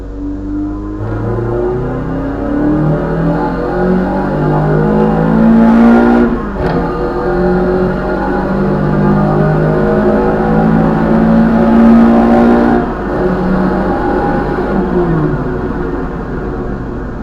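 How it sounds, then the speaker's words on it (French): A Renault Clio Williams engine revs up hard and pulls through the gears, a loud sustained roar rising in pitch with brief dips between shifts. "on va se mettre un petit coup d'accélérateur pour voir ce que ça donne en accélération"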